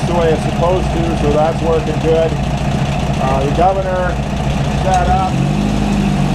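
Volkswagen engine powering a Mobile Dimension sawmill, running steadily at a fairly loud, even idle-to-mid speed throughout, with someone talking over it the whole time.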